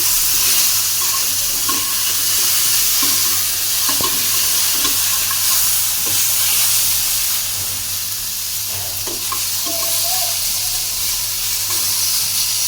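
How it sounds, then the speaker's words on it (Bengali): Potato and pumpkin pieces fry in hot oil in a pan, making a loud, steady, close sizzle with occasional soft stirring scrapes. "আলু ভাজি করতেছি"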